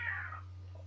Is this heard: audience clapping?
no